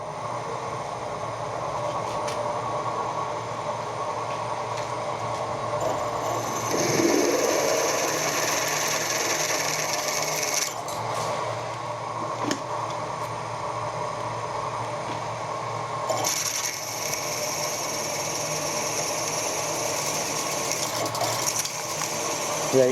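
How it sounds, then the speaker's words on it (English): A 10mm HSS cobalt drill bit boring through mild steel, enlarging a 5mm pilot hole, with a steady mechanical drone and whine that holds for over twenty seconds, shifting slightly as pressure changes. "I'm going to put a 10mm drill through the 5mm hole I've already drilled."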